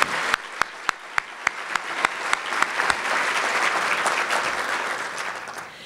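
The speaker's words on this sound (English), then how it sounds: "Let's give them all a big round of applause." Audience applause for newly appointed county officials at a State of the County address. It opens with a few loud isolated claps and swells into steady, dense clapping from a large crowd, with no talk.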